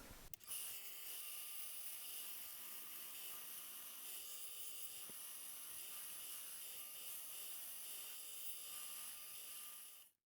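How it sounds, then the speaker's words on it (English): A power sander works on wooden picture frame pieces, giving a steady high-pitched whirring grind that holds loud and constant for about ten seconds and then cuts off. "They just need to be sanded down, and we can make ourselves a picture frame. Let's go sand it."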